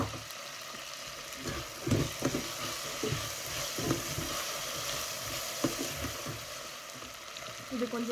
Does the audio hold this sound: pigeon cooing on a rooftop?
no